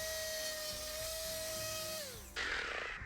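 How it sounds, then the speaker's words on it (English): A power sander works the cut ends of a wooden deck board, a high steady whine that dips in pitch before cutting off, followed by a brief rougher burst of abrasive contact, close and loud. "the first thing I got to do is come in and sand this thing"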